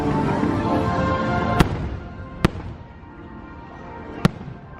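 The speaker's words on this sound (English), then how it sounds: "I'm completely drowned out by all the fireworks going on." Fireworks burst at a Disney park during Christmas celebrations, three sharp booming reports spaced a second or two apart over a continuous rumbling crackle of more distant explosions.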